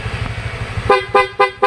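Loud electronic alarm horn fitted to a Yamaha ZX25R motorcycle, sounding in three or four sharp, close blasts after a low idling rumble, with no talking.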